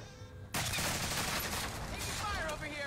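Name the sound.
submachine gun firing in a video game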